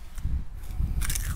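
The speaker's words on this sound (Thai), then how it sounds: "เคี้ยวใส่ไมค์ให้ได้ยินเลยว่ามันกรอบ" Crispy fried dried squid chewed close to the microphone, a few loud crunching bites in a quick irregular rhythm ending in a sharper crackle.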